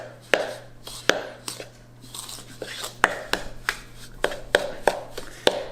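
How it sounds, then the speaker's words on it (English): A spoon knocking and scraping through thick two-ingredient low-calorie cookie dough in a bowl, sharp close taps repeating at an irregular pace of roughly two per second, alone without talk. "Just gonna keep stirring, keep stirring, keep stirring."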